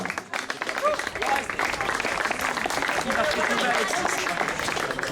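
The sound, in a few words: applause at a cycling race podium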